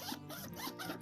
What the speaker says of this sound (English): Let's try the zipper.